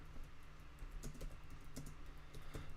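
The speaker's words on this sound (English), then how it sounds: "Don't mind me just typing away over here." Quiet, irregular clicking of keys on a computer keyboard, a steady patter of keystrokes with no voices.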